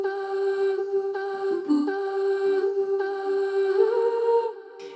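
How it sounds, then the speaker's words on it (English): A chopped vocal sample melody for atmospheric lofi, short pitched syllables stepping through a simple tune with soft gaps between notes, clean and upfront with no speech over it. "I decided to kind of do like a vocal chop melody"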